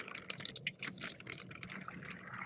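Rainwater poured off an overfull bottom-watering tray under caladium plants, a close splashing, trickling pour with scattered drips, continuous and fairly loud for the short span.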